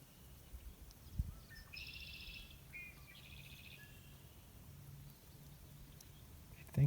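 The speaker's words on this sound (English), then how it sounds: "All the birds singing." Faint bird calls and chirps ring out across a quiet park, with a low steady background hum and a few soft clicks.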